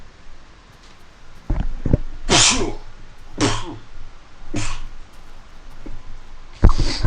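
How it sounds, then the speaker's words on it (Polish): A man sneezes several times in a row, each sneeze a sharp, forceful burst a second or so apart, close to the microphone over a low background hum. "Będę kichał."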